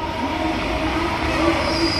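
A small ride train runs at a village fair, giving a loud, steady mechanical rumble with faint squealing tones above it. No one speaks.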